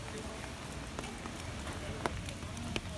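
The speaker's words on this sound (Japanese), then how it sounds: "雨止んでね" Rain falling on a surface at an outdoor BMX show, a soft, steady patter at low level with a few sharper drops standing out.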